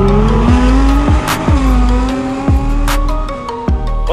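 A 2020 Corvette C8 and a 2014 Nissan GT-R launch hard, engines loud and close, revs climbing and dropping through quick gear shifts about every second, with tire squeal over the roar.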